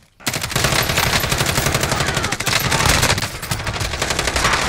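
Rapid automatic gunfire in the video game Warzone, sustained loud bursts of machine-gun fire filling the whole stretch with barely a pause.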